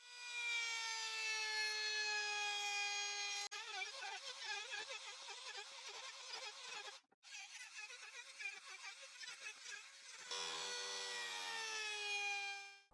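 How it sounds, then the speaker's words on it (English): A router fitted with a 30mm bit rounds over the corners of repurposed wood, starting as a steady high motor whine, then shifting to rough cutting noise with a brief break before the whine returns, fairly quiet throughout. "I use the router with a 30mm bit to round over the corners."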